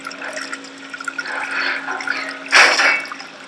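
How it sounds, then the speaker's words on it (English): Running water from a tap or pipe in the video game White Night, a steady trickling wash with drips, then a brief louder gush near the end, heard alone. "I suppose I gotta turn all the water off."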